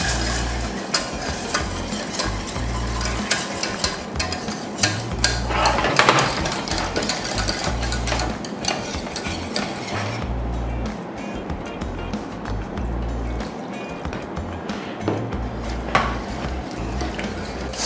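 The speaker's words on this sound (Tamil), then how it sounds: "விடாமல் ஸ்டிர் பண்ணிகிட்டே இருந்தீங்கன்னா உங்களுக்கு ப்ராப்பரான கன்சிஸ்டன்சிக்கு ஒயிட் சாஸ் வந்துடும்" White sauce being stirred in a pan as milk is added bit by bit, a steady scraping and clinking of utensil against the pan running throughout over a constant low hum.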